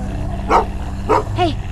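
Dog in the video game The Walking Dead Season 2 barks three times in short, sharp yips over a steady low background hum, fairly close and loud.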